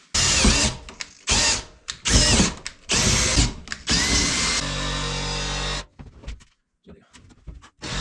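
A power drill whirs in several short bursts, stopping and restarting, then a longer steady run before fading to quiet with scattered clicks, while installing a kitchen set in a 128-year-old log cabin.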